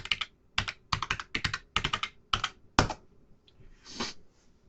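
Quick bursts of keystrokes on a computer keyboard entering a password, several close, crisp clicks in short runs, then a softer final press, nearby and quiet with no voices.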